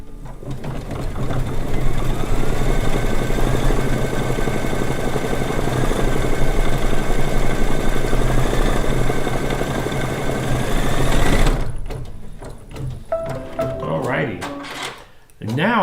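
An embroidery sewing machine runs a tack-down stitch on a quilt block with a loud, steady, close mechanical whirr for about eleven seconds, then stops, leaving clicks and handling noises.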